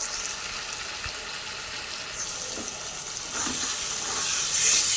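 Spices being sautéed in a pan for a catla fish curry, a soft, steady sizzle with occasional stirring scrapes that grows a little louder toward the end.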